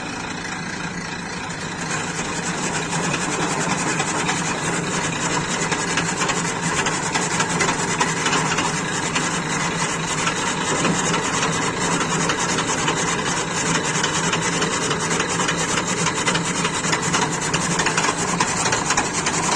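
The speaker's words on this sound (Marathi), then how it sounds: "मला एक दाखवतो कुट्टी कशी काढता एका मिनिटात" A recently repaired chaff cutter machine chops fodder, a loud, steady mechanical whirring and grinding that runs continuously and close, with no talking over it.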